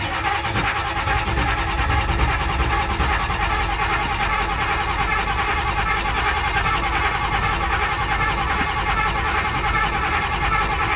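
A 1993 Ford F-250 engine runs continuously and loudly in the cold, cranking and struggling unevenly with no clear break over several seconds, and faint talk sits underneath.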